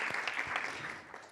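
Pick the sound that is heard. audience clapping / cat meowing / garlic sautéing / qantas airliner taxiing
audience clapping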